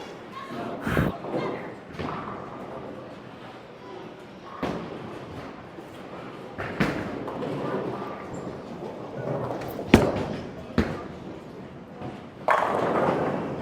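A bowling ball rolls down the lane in a busy bowling alley, a low rumbling roll under crowd murmur and scattered thuds, ending in a louder clatter of pins toward the close.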